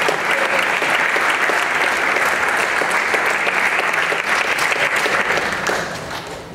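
A forum audience gives a state senator a loud, dense round of applause that holds steady for several seconds before starting to fade at the end.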